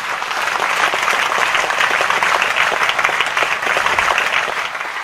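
Loud, steady applause from the audience at a Nagarathar Premier League 2025 cricket awards ceremony, dense clapping that continues evenly for several seconds without a break.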